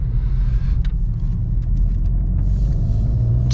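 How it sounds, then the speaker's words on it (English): A VW MK7.5 Golf GTI engine, 315 hp, rumbling low and steady from inside the car at low speed, with faint clicks and rattles above the drone. "Hear the GTI screaming at me."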